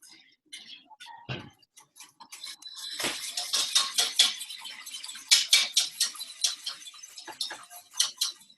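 A whisk stirring warm chocolate into warm milk, rapid light ticking clicks of the whisk against the pot that build into a dense, fast rhythm, close and moderately loud, with no talking.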